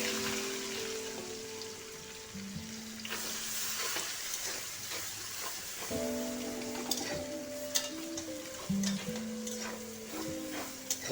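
Chopped onions frying in a pan with cinnamon, cloves and chillies, a steady close sizzle with stirring scrapes and occasional tonal clinks throughout.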